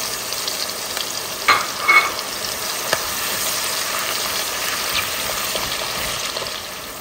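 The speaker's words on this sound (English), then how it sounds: "Now I'm going to put my onion in the oil to fry." Onion frying in oil for a garden egg stew, a dense steady sizzle close to the mic with a couple of brief louder bursts as it settles and stirs, no voices.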